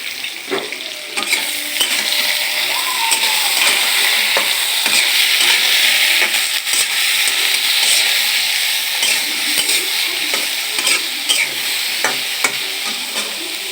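Eggplant with salt and a little turmeric fries in a pan, making a steady, close sizzle. A utensil stirs and scrapes at it now and then, and a few sharp taps stand out above the hiss.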